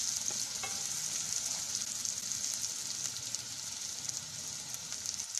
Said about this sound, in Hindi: फिर इसमें हम ज़ीरा डालेंगे, अनियन डाल दें, प्याज, फिर अच्छी तरीके से इसको सॉफ्ट कर लें